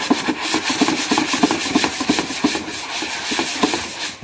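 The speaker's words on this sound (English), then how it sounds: "smooth it out with this 150 grit and give it a nice smooth texture prep for painting" Hand sanding of cabinet wood with 150 grit sandpaper to prep it for painting, a close, rhythmic back-and-forth scratchy rubbing with quick regular strokes throughout, no voices.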